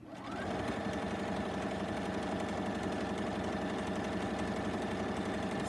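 A sewing machine runs steadily for several seconds, its fast, even needle clatter close and loud with no talking over it.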